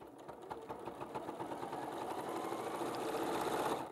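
Sewing machine running steadily at speed, stitching a scant quarter-inch seam on a cushion, mat or mug rug project, a continuous close mechanical whir with fast rhythmic needle clatter that builds slightly toward the end.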